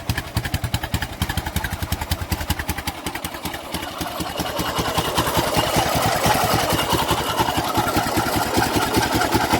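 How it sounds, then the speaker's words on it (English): A 2005 Yamaha Raptor 660R ATV engine with badly flooding carburetors runs close by, a loud, rapid, uneven thumping idle that grows fuller and rougher partway through. "Carburetors are flooding pretty bad, so that's why it sounded like that when it's running."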